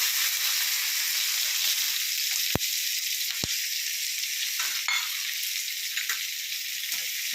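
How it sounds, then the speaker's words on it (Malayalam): Onions, ginger and green chilies sizzle steadily in a hot pan, a constant loud hiss broken by a couple of sharp clicks from stirring. "പിന്നെ നമുക്ക് ഉള്ളി ഇഞ്ചി പച്ചമുളക് എല്ലാം കൂടെ വഴറ്റിയെടുക്കാം"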